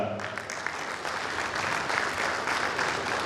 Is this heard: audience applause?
yes